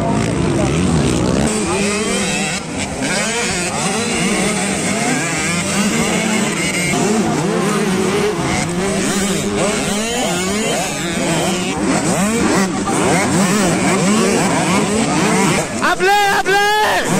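A pack of 65cc motocross bikes leaves the starting gate at a Don Carlos MX race, several small two-stroke engines revving loud and dense throughout, rising and falling together, with voices mixed in.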